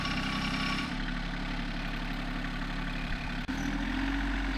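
A small farm tractor idles in a Tennessee pasture, its engine giving a steady low rumble and hum that stays close and constant, with one brief dip near the end and no talking.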